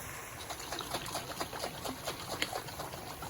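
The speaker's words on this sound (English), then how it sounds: "I'm going to now fill the jar up with about 1/3 of the way of water" Water pours from a jar into satay sauce, a close, bubbling trickle with uneven splashy gurgles running throughout, with no talk.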